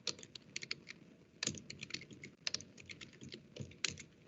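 Typing on a computer keyboard during a Linux routing class, a quick, uneven patter of individual key clicks with occasional heavier strokes, close and fairly quiet, with no talking.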